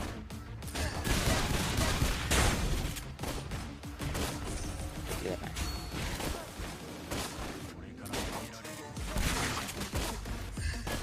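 Granger, a gunner hero in the mobile game Mobile Legends, fires rapid shots amid dense, loud battle effects, with crashing impacts and whooshes running continuously throughout.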